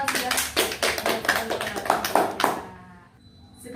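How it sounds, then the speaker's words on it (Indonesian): Classroom group clapping hands for a student, a burst of quick, uneven claps from several people that stops after about two and a half seconds, leaving near silence. "tepuk tangan dulu untuk AA sudah"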